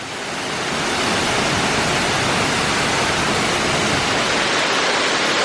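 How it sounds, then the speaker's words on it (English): Steady, continuous splashing water fills the scene at EPCOT, a dense hiss of a fountain water feature pouring with no pauses and no voices. "I love me a water feature"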